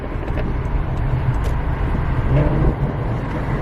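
A Ford 5.0 V8 car with a loud, low engine rumble revving and shifting down through gears, heavy bass drone rising and falling, close by with no speech.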